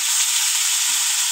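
Carrot and potato pieces fry while being stirred in a pan for gajar alu bhaja, giving a steady, close, dense sizzle with no talk.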